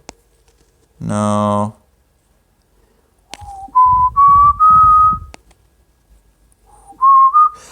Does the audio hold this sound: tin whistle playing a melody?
yes